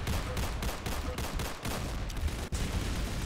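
Rapid gunfire from the Roblox shooter Arsenal rattles almost continuously in dense bursts, loud and close, with one brief break in the stream.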